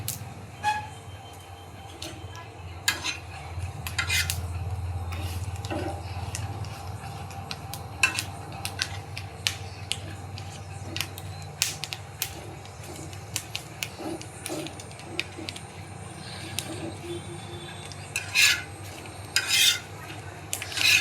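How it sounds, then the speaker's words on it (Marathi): Green chillies roasting in a pan for Vidarbha-style thecha, a low steady sizzle with scattered sharp clinks and scrapes of a utensil against the pan, fairly faint and continuous, no talking. "चांगली मिरची अशी भाजून घ्यायची"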